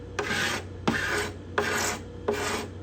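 Four even, rasping strokes of a steel cabinet scraper across cedar guitar-top bindings and purflings, each starting with a sharp bite and fading away, close and regular with brief gaps between them.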